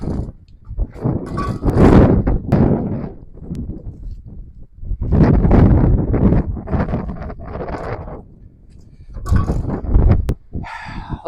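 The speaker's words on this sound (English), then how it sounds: "Boy, this wind is something else today." Strong outdoor wind gusts buffet the microphone in loud, roaring surges that rise and fall over several seconds, with a few sharp knocks between them.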